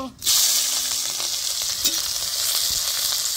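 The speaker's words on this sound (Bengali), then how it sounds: "সবকিছু আমি হালকা করে ভেজে নিব।" Chopped onion, garlic and green chilli hitting hot oil with cumin, bursting into a loud, steady hiss of frying that starts abruptly and continues evenly, with an occasional soft stir or clink close by.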